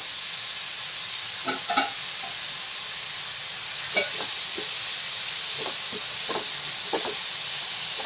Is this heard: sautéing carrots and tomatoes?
yes